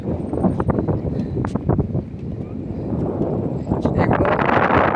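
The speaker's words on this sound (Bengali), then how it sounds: "প্রচন্ড বাতাস।" Strong wind gusting across a flooded riverside ferry ghat, roaring and buffeting the microphone in uneven surges, with a voice speaking briefly over it.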